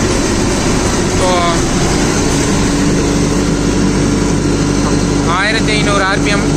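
A tractor engine with a 15-forward, 5-reverse gearbox runs steadily at about 1500 rpm while driving a rotavator, a loud continuous drone throughout with voices speaking over it.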